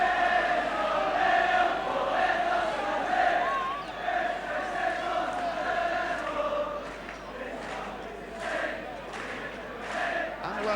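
Football crowd at the 1980 Wales v Czechoslovakia international, a sustained roar of many voices filling the stadium, swelling and easing, under continuous commentary.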